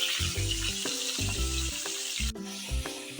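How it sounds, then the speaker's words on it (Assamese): Fish frying in hot oil in a home kitchen gives a steady, close sizzle and crackle that runs the whole time, with a few brief scrapes and tonal background music layered over it. "এতিয়া মাছ ভাজিবলৈ লৈছোঁ।"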